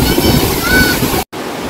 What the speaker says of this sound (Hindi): तो भाई ये टाइगर फॉल,